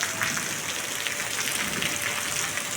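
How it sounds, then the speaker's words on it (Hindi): Heavy rain pours down in a steady, dense hiss with no breaks, close and fairly loud, and no voices over it. "इतनी जोरों की बारिश लगी हुई है ना,"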